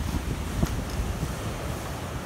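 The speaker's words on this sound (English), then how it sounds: "Look at the power of that ocean." Ocean waves surge against a rocky shore, a deep, continuous roar of churning surf mixed with buffeting wind noise on the microphone, with one brief louder splash partway through.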